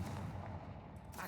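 A Confringo spell blast in a Harry Potter video game lands as a dense, booming burst of explosive noise that fills the whole moment, loud and close with a rumbling low end.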